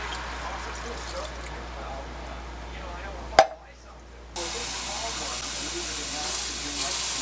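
Beef broth from a can pours into a hot cast iron pan with a steady steaming hiss and liquid rush, a sharp crackle marking the start of a louder sizzle.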